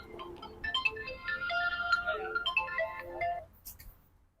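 A melodic phone ringtone plays a bright looping tune of stacked tones for about three seconds, then stops, leaving faint background noise.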